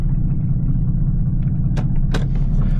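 A 26-year-old Mercedes-Benz with a stage 4 tune pulls away, its engine a steady loud low rumble from inside the cabin, with a couple of faint clicks on top.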